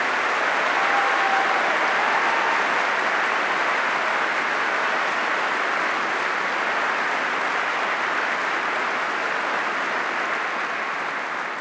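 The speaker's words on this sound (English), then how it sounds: "Let us again applaud John Prescott for what he has achieved." At the Labour Party conference, a large audience claps continuously, a dense, even roar of applause that holds steady and loud throughout with no talking over it.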